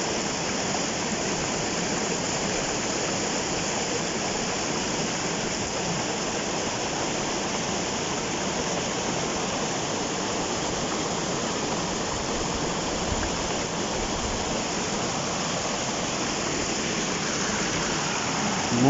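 A forest river rushes steadily around a bend, a dense, even roar of flowing water that stays constant and fairly loud from start to finish with no voices over it.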